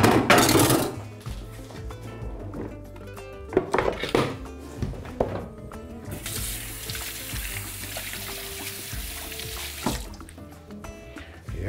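Wooden cutting board and knives clatter and knock as they are moved aside in a home kitchen while a fish stew with vegetables and rice is being made. Sharp clinks and thuds come close, with a stretch of running water in the middle.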